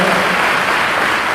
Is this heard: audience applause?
yes